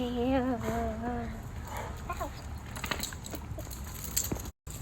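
Dogs play nearby, giving whiny vocal yelps and scuffling paw sounds, while a person talks over the activity.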